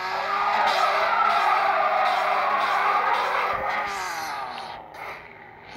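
A car drifts in the video game Car Parking Multiplayer 2, its tires screeching in a long sustained squeal over a steady engine drone that fades near the end, loud and close.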